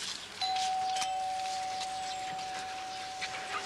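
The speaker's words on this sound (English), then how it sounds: "ring the bell, she'll come" A single bell chime rings out and hangs as a long, steady tone over quiet room noise, with a few faint knocks and no speech.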